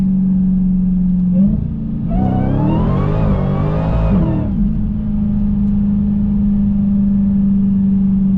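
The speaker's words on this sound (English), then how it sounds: "There's those backfires that you can hear" A 2023 Dodge Challenger Hellcat Redeye Widebody idles with a deep, steady rumble, then revs hard for a couple of seconds with a rising roar before settling back to idle; distinct exhaust backfire pops are not clearly separated.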